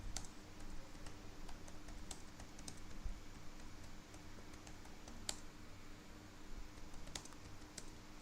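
Steady typing on a computer keyboard, a quiet run of soft key clicks with a few sharper taps, heard alone without talk.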